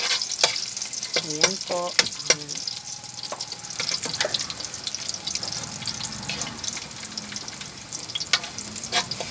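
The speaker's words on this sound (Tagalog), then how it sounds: "unahin mo na po ang bawang, gisa, sibuyas" Garlic sautéing in a pan, a continuous close sizzle with metal utensil clinks and scraping from stirring, and a brief spoken phrase partway through.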